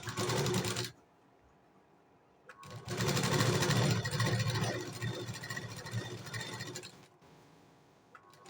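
An electric sewing machine runs in two sustained bursts, stitching the lining onto a blouse sleeve with a fast mechanical whir and rattle, separated by a short quiet pause, with no speech.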